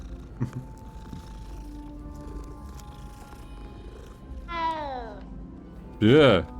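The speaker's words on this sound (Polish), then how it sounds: "Co to był miałk?" A cat in the Hogwarts Legacy video game meows twice over quiet game ambience, the first call a drawn-out mew and the second a louder, sharper meow at the end.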